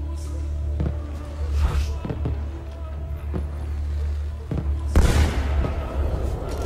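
Gunfire in the video game Assassin's Creed 2, with several sharp shots spread across a steady low game rumble, the loudest burst near the end, heard up close.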